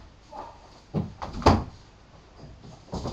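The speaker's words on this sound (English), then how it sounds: "Can you shut the door afterwards?" An indoor door is shut with a sharp, close knock about halfway through, after a softer bump a moment earlier, with quiet room noise around it.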